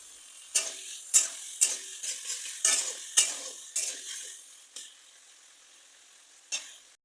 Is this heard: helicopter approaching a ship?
no